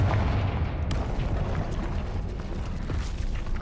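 A Confringo fire spell blast in the Hogwarts Legacy video game, a loud, sustained roaring burst of broadband noise that fills the whole moment without letup and with no talking over it.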